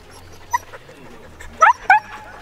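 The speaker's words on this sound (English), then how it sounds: "You can already hear that the dogs are very excited to run" Excited sled huskies waiting before a run in Hungary let out a few short, high-pitched yips and whines. They rise in two quick bursts near the end, over a low outdoor background.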